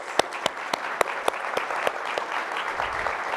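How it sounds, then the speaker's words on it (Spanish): Audience applause closing a talk at a security conference, a steady patter of many hands with several sharp, distinct nearby claps standing out at regular intervals over the crowd. "la despedimos con un gran aplauso"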